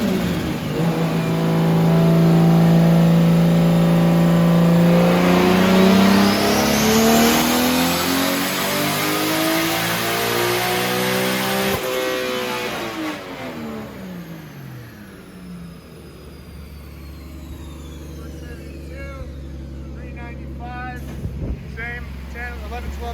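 A 2JZ-swapped Nissan 240SX with an S366 turbo on a dyno, running about 10 to 12 pounds of boost: the engine climbs through a long, loud rising rev, then drops back to a lower, unsteady rumble with a faint voice underneath.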